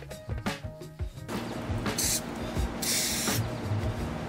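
An Ironlak 400 ml spray paint can hisses through a Rusto Fat cap in several bursts, the last spray bursts long and loud at close range, with some clicks and handling noise in between.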